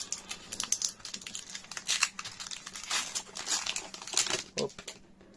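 The plastic foil wrapper of a Pokémon card booster pack from the EV01 display crinkles and tears open, with dense rustling and sharp ripping bursts up close over several seconds.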